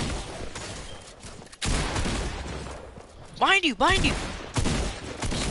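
Video game gunfire in short bursts of shots mixed with shouting players and game sound effects, loud and close under excited talk.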